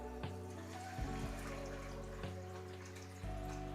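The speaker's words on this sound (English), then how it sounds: "So we're gonna get started by adding 4 pints of water" About 8 cups of water pouring into a pot for a Cajun roasted turkey breast, a steady close gurgling stream broken by brief pauses and restarts.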